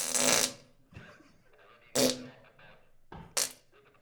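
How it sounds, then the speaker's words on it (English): A fart sound effect plays during a live panel, sounding in three loud, brassy bursts spaced about a second and a half apart, with faint murmuring between them. "Turn off the fart."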